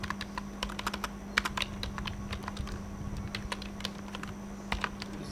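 Fingers type on a computer keyboard in quick, uneven bursts of close, crisp key clicks over a low steady hum.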